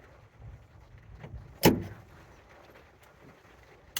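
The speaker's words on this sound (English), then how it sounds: "Oh, I forgot to lock the door." A van door lock clunks once sharply and close in a quiet vehicle interior in bear country, followed by faint rustling and a small click at the very end.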